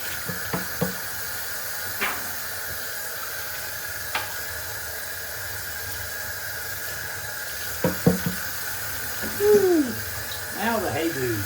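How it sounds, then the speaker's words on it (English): Hot water runs steadily from a tap with a continuous hiss, broken by a few brief knocks and splashes, during home cleaning of shoes and sneakers. "Get that hot water going."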